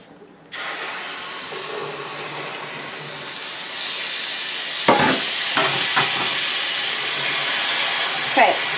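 Cranberries dropped into hot caramelized sugar set off a burst of steamy hissing and sizzling that rises and continues, with a few sharp crackles and spits near the pan.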